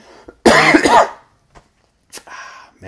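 A single loud, close cough from a lingering allergy, then a couple of softer throat-clearing sounds after a short pause.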